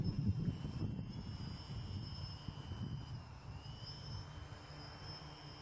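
A drone flown with an optical remote control hovers nearby, a steady, loud whining buzz with a high tonal hum that stays constant and then slightly softens, with no speech.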